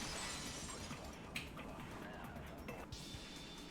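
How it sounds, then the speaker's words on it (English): Glass window shattering in the Danganronpa class trial game, a broad crashing burst with scattered sharp tinkling fragments, loud and continuous across a few seconds, with faint speech mixed in. "they heard the sound of the window shattering"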